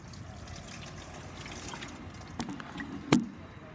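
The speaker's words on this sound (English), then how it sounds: "we'll put some water down the outside of the window" Water is poured down the outside of a 2013 Nissan Note's door window during a leak test, producing a quiet, steady trickle with a few sharper splashes and drips near the end.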